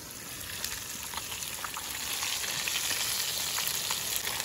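Marinated pieces fry in a small kadhai at a beach camp, a steady, close sizzle that swells slightly louder partway through, with faint pops and no voices.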